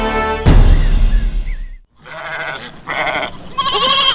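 Several goats bleat in quick succession, a loud burst first and then a string of wavering, nasal calls close by, with a short pause midway.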